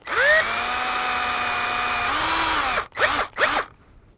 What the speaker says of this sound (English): we're going to take a drill and we're just going to hand drill